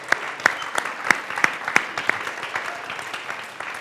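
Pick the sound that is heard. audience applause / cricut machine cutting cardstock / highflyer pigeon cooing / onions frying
audience applause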